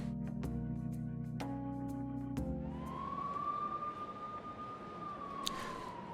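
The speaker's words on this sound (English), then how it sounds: "Look at all those police cars." A single police car siren in the video game Persona 5 wails steadily, rising then holding a sustained tone, after a few sharp rhythmic thumps and a low droning background.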